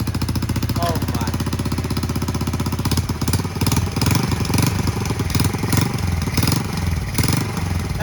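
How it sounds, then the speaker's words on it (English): A 1971 Honda CT70H four-speed minibike with a small single-cylinder engine sputters and idles rapidly after being kick-started with choke, a close, steady popping putter that roughens with brief revs, with a person talking. "we'll give it some choke and see if this thing fires up"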